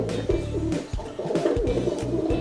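A pigeon coos from an iPad children's education app, a soft low repeating call in short phrases that carries across the clip with a few brief pauses, fairly close and steady.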